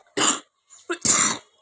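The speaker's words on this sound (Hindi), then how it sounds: "आप देख सकते हैं मेरी एडिटिंग में खांसी ज़रूर आ गई है" A person coughs up close, two rough bursts split by a brief gap, loud and clear in an otherwise quiet setting.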